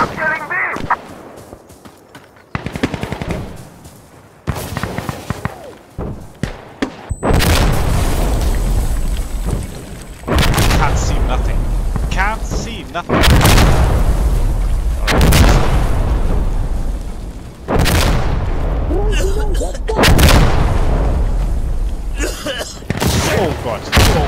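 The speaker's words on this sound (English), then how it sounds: "I'm throwing a grenade!" Grenade explosions and gunfire in the video game Insurgency Sandstorm: several loud, deep booms and bursts in quick succession with a rumbling tail, mixed with shouted voices.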